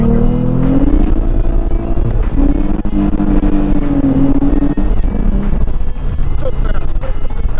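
A Ford Mustang with a manual gearbox revs hard and loud up close, engine pitch climbing and dropping through quick gear changes, with a voice speaking over it.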